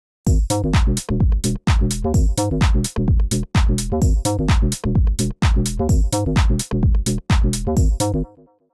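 A house bass patch built in the Serum synth plays with a drum beat: punchy, pulsing bass notes hit in a steady four-on-the-floor groove, loud and full, with kicks driving each beat.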